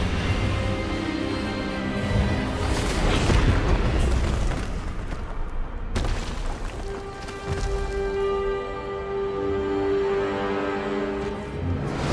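An Expelliarmus spell is cast in Hogwarts Legacy, bursting out as heavy booms and crackling blasts, followed by a sustained ringing, tonal tail that fades and swells over several seconds.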